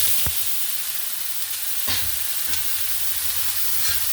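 Potatoes frying in a pan after onions, a steady sizzle with a few sharp stirring clinks and scrapes, close and alone with no talk.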